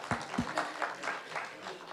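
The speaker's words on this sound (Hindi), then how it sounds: "क्या बात है, तालियां।" Brief applause from an audience at a political speech by a state chief minister, a short burst of clapping with a few louder claps at the start.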